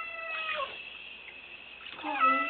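A cat being bathed meows twice, two drawn-out, plaintive cries close by with a quiet pause between, over faint background noise.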